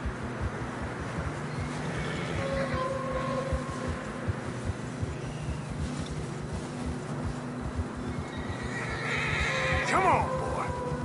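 Horses in the snowy mountains of Red Dead Redemption 2, with loud whinnies and a steady clip-clop of hooves throughout, a louder neigh late on, and some talk underneath.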